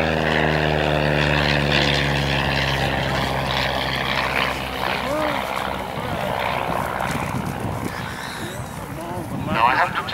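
A Miles Whitney Straight propeller aeroplane at Abingdon, its engine a loud, steady droning buzz that shifts in pitch as it passes nearby, with voices talking over it.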